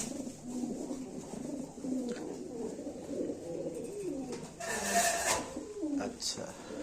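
American Fantail breeding pigeons, blue checker and indigo birds among them, coo repeatedly in soft rolling phrases close by, with a brief burst of rustling or wing noise midway and faint voices in the background.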